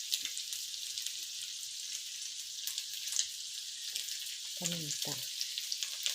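Shrimp frying in a pan for fried rice, a steady bright sizzle running throughout with brief scraping stirs, and a short spoken word near the end.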